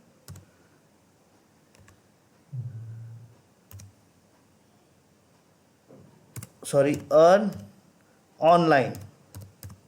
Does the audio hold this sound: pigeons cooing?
no